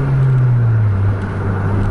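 A Scania or Mercedes-Benz truck engine runs on an intercity highway, giving a loud, steady low drone with a strong humming tone that dips slightly in pitch partway through. No one speaks.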